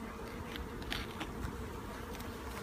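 Honeybees buzz steadily around an opened Beehaus hive at an urban London apiary, a dense continuous drone close by with occasional louder passes near the listener.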